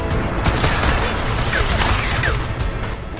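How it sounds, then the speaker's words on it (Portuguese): Dense, continuous gunfire and crashing impacts from the PS4 game Strider, loud and chaotic throughout with whooshing effects layered on top. "Tem alguém atirando em mim aqui. Muitos tiros."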